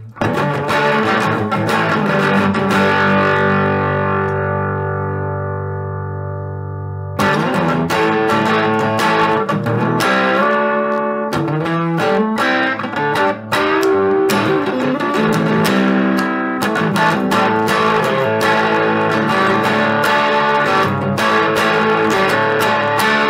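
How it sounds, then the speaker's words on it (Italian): Electric guitar plugged straight into a Marshall Origin 5 amp, strummed chords and picked notes with a crunchy, slightly distorted tone, one chord ringing out and fading before more rhythmic playing, loud and without speech. "Questo è il suono dell'amplificatore."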